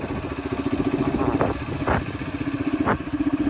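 A motorcycle engine putters with a steady, close idle on a village road, broken by a few brief clattering knocks.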